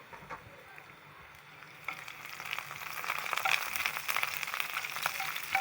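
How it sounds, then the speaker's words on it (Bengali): Chopped local garlic and dried chilies frying in hot oil in a pan, a steady close sizzle that grows louder and denser partway through, crackling with sharp pops, no talk. "এবার তেলটিতে দিয়ে দিচ্ছি রসুন কুচি"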